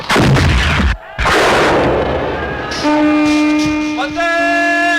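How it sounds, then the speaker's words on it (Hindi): Cannons boom in a battle scene at the fall of Vijayanagar, with heavy blasts and rumbling smoke-filled noise. After a short gap the blasts give way to sustained horn-like tones. "तोपों के धमाकों से इतना धुआं उठ रहा था कि हाथ को हाथ नहीं सूझता।"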